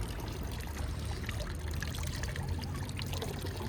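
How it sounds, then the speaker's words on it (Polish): Water runs continuously from a public drinking fountain on a street in Rome, a steady close splashing trickle with no break and no voices. "W Rzymie możemy zobaczyć takie fontanny z wodą."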